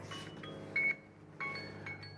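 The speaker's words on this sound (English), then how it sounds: "That is my alarm to check my 3D printer" An alarm set to check a 3D printer chirps in two short electronic beep bursts, fairly faint against room noise, with no talking.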